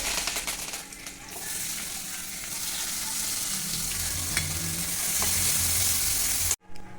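Cluster beans are tossed into hot tempering in a kadai and stir-fried, giving a steady sizzle with scraping and stirring sounds that grows louder before cutting off abruptly.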